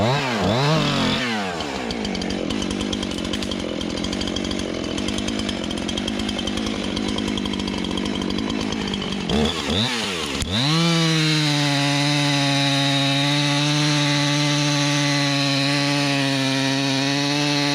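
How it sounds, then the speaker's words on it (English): An old Husqvarna chainsaw cuts through a tree, roaring loud and close, dipping briefly twice as the cut eases, then settling into a steady, buzzing rev. "Got my trusty old Husqvarna. Decent little saw too"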